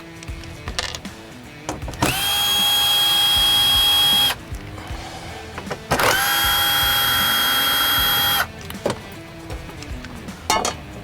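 Power driver with a T25 bit backing out dash screws in a Freightliner Cascadia cab, two steady whining runs of a couple of seconds each, separated by handling clicks.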